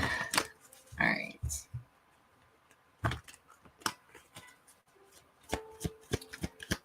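Tarot cards being shuffled and pulled, with a cluster of crisp riffling slaps near the start and scattered sharp card snaps and taps afterward. The sounds are close and moderately loud, and a voice speaks faintly between them.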